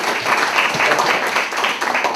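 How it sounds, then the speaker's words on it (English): An audience at a founders day celebration applauds a long marriage. Dense, lively clapping from many hands builds a continuous, fairly loud roar throughout. "So let's applaud marriage."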